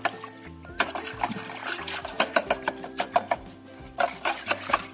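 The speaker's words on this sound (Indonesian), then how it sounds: "Kita aduk lagi sampai tercampur rata." Pearl sago being stirred into batter, producing repeated soft wet squelches and scraping pulses in an uneven rhythm, close and moderately quiet.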